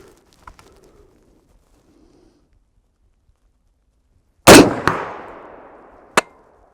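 A rifle shot rings a steel gong at 100 yards, one sharp loud crack with a ringing, decaying tail, then a second shorter impact after a pause, with quiet outdoor ambience before.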